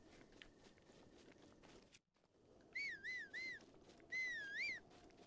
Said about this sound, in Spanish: no sé por qué le doy siempre el silbato sin querer